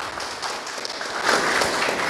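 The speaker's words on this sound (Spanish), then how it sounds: "Un aplauso" Audience applause at a government ceremony handing over a children's daycare center, a dense wash of many hands clapping that swells slightly toward the end.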